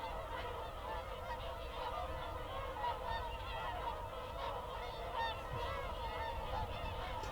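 A flock of swans flying low overhead at dawn over Welney honks continuously, the calls steady and fairly loud, with no talking.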